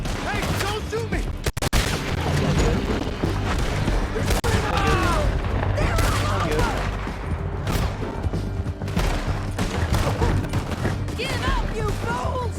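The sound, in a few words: gunfire during a shootout in a video game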